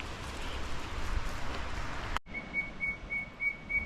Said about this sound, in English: could hear this little bird